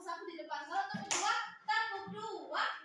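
Children's voices chant alongside a few sharp hand claps, spaced between the sung words.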